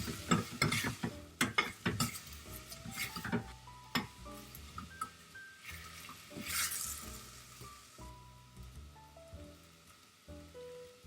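Sunchokes are stirred in a pot with a sharp scrape and clatter of the spoon, a rhythmic series of knocks over a soft sizzle, then quieter tapping.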